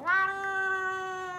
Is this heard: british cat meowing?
yes